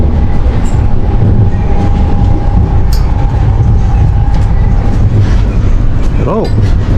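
A new Russian-made Ivolga 4.0 train rumbles steadily along the rails with a low continuous roar, a faint tone and occasional clicks and squeals over the running noise.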